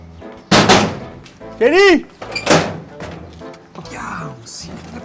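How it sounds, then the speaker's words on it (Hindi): Loud, heavy bangs strike a door in a forceful knock, interleaved with raised voices talking and shouting close by. "क्यों दरवाजा इस तरह जानवरों की तरह खटखटा रहे हैं आप?"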